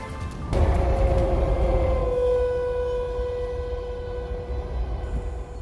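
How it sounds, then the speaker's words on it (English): A loud, steady tornado siren wails continuously in Arkansas, its pitch holding and slowly sliding over a broad rumbling background, sounding distant and outdoor. "So are tornado sirens a thing of the past, or do they still have a purpose today?"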